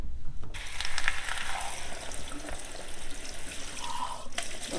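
Tap water runs steadily into a kitchen sink while freshly shelled homegrown black beans are rinsed, a continuous close hiss and splash with faint clinks and no talking.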